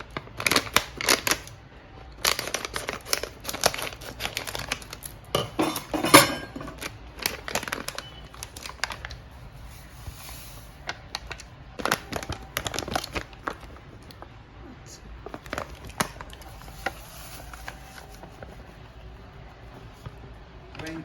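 Gits Kesar Kulfi mix packets are torn open and tipped into warm milk, giving a run of crisp rustles, snips and papery crackles in irregular bursts, close and fairly quiet, with no talking.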